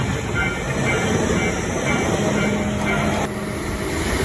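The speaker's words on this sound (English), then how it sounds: "Riding a train in Japan." Ride aboard a train in Japan: a continuous loud rumbling hum of the carriage in motion, with steady high whine tones throughout and no break.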